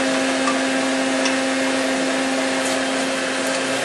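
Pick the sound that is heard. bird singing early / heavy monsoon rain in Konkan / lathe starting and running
lathe starting and running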